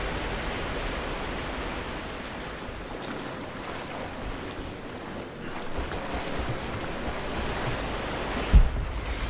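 Steady broad rush of water held back behind a sluice gate in Rise of the Tomb Raider, a continuous roaring wash with a brief low thump near the end and no speech.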